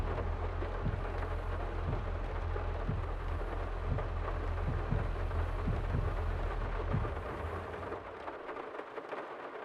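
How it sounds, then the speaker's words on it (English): Steady rain with repeated low rumbles of thunder in Farming Simulator 22, the rumbles rolling every second or so over a constant wash of rainfall before fading toward the end. "we're just gonna wait for this rain to go."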